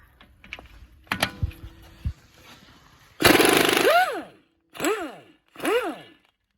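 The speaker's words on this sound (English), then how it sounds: "We use an impact wrench," An impact wrench spins out the front axle bolt on a Mercedes E320 in three close bursts. The first is the longest, with a whining pitch that swoops up and down, and two shorter hammering rattles follow after quieter shop clatter.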